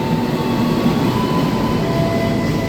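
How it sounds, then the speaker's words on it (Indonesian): Kertanegara passenger train pulling into track 3 at Kutoarjo station, a loud, steady rumble of rolling carriages with a faint high wheel squeal, close by and continuous throughout. "kereta api Kertanegara masuk stasiun Kutoarjo di jalur 3"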